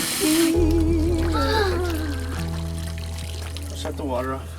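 Water runs from a tap in an off-grid home, a brief rushing burst at the start, then voices talk over a steady low hum.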